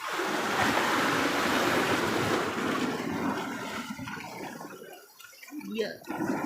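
Sea water and waves wash loudly and continuously at the shore of a Palawan island, a broad close roar that thins and dips near the end before surging once more.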